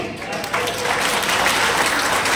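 An audience claps during a motivational talk, the applause swelling quickly into a loud, dense, continuous patter with a faint voice near the start.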